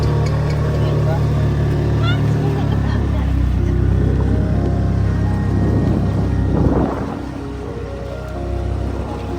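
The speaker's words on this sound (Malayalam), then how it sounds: "സ്പീഡ് ബോട്ട് ഇവിടെ ഒരു തുരുത്തിലേക്ക് പോകുന്നുണ്ട്." A speedboat runs across the Ashtamudi backwaters in Kerala toward an island, its engine a steady low drone with water rushing beneath, while voices talk faintly over it.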